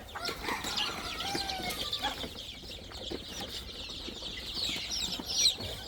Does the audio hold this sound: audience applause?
no